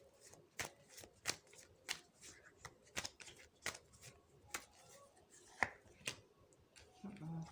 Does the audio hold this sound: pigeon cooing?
no